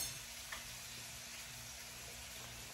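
Steak sizzles in a skillet with lemon garlic butter, a soft continuous frying hiss at low volume, steady and close without talk.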